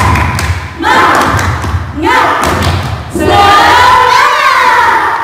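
Children at an online Sunday school service do a rhythmic spirit clap, patterned bursts of claps and loud group chanting in three waves, with a leader's voice calling over them.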